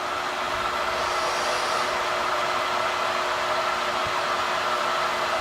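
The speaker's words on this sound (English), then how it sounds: "Now let's turn the printer on. And it's noisy." Longer Orange 10 resin 3D printer just powered on, giving off a steady, loud broadband whir like a fan or blower, constant throughout with no talk over it.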